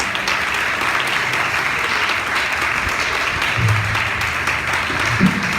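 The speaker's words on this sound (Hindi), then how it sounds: "आए जिंदा खुदावंद के लिए जोर से ताली बजाएं।" Church congregation at a live worship service in Lahore clapping loudly and steadily, a dense continuous wash of applause with faint voices underneath.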